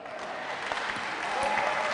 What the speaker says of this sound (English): Oh, if you are clapping your hands, clap well.